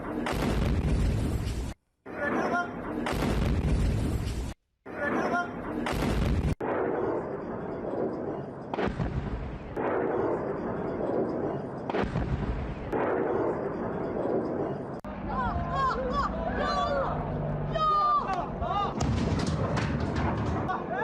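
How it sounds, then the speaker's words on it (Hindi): Loud blasts from an attack on Dimona, Israel, site of a major nuclear research center: several heavy booming bursts in the first seconds, separated by short gaps, then a rumbling, noisy aftermath with voices and commotion in the background. "आवाजें सुनिए इस धमाके की।"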